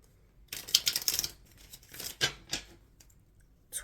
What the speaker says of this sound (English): Shuffling for August.